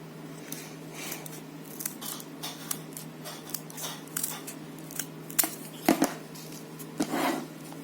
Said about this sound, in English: And cut it out with your silly scissors.